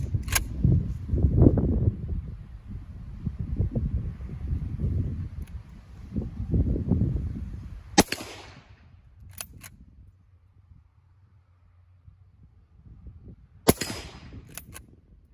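Blaser R8 rifle shots fired from carbon shooting sticks ring out as two sharp, isolated cracks several seconds apart amid low rustling and handling noise.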